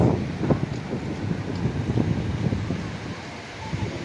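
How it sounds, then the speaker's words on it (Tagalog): Steady wind buffets the microphone with low, gusty rumbling throughout, fairly loud and close, with no voices. "Masyadong mahangin."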